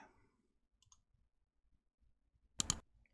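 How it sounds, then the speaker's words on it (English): A quick, crisp double click of a button sound effect rings out once in near silence. "that first little click sound was our button click sound effect"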